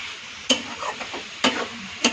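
Coconut laddu mixture frying over low heat in a pan, with a few sharp spatula scrapes against the metal at regular intervals above a steady soft sizzle.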